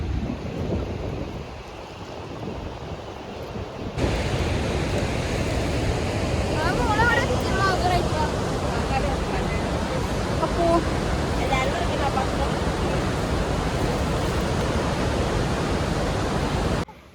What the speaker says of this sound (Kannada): ಫಾಲ್ಸ್ ನೋಡಿ ಈ ರೀತಿ ಕಾಣುತ್ತೆ ತುಂಬ ಬ್ಯೂಟಿಫುಲ್ ಆಗಿದೆ ಈ ಫಾಲ್ಸ್ ಅಂತೂ